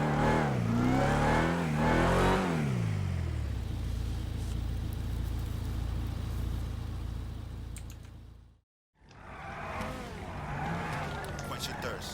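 Video game Dodge Challenger SRT Demon engine revs in rising and falling surges, then settles into a steady droning hum that drops out briefly before more engine noise returns, moderately loud.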